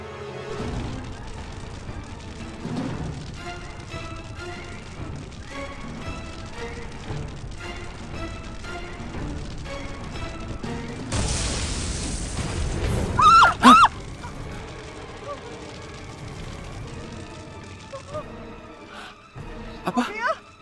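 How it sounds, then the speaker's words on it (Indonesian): A bomb blast beside a car sets off a burst of shattering and crashing, followed by crackling fire, as people shout in alarm before and after. "Ada bom itu meledak itu!"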